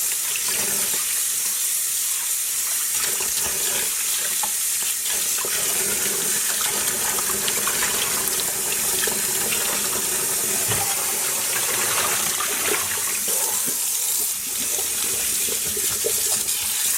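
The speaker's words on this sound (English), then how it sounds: "letting the water run over sections of the yarn" Water running steadily from a tap over dyed cotton yarn, a continuous close splashing gush that holds the same level throughout, with no talking.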